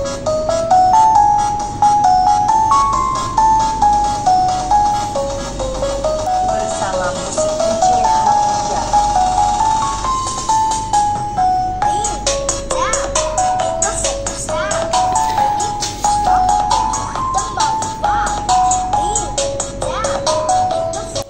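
A Xiaomi Pad 6 tablet playing music through its built-in speakers, with a repeating melodic tune and a steady beat at close range, fairly loud and continuous.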